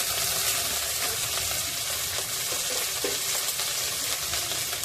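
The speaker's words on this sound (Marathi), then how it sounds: "हे आपल्याला पारदर्शक होईपर्यंत कांदा परतायचा आहे" Chopped onion, garlic and green chilies fry in a pan together, giving a loud, steady close-up sizzle and hiss with occasional soft stirring scrapes and no voices.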